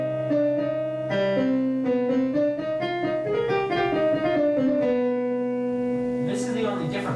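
A piano plays a pattern over a held low C, with shifting chords moving steadily for several seconds, close and clear, alone.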